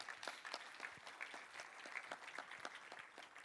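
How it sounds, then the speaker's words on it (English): A conference audience applauds a speaker at the close of a technical talk, a faint and distant patter of claps that carries on evenly throughout. "Final round of applause for Carlos."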